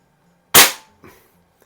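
A Benjamin 352 .22 caliber air rifle powered by an 8-gram CO2 cartridge fires once, a sharp close crack that decays quickly, followed by a faint mechanical click.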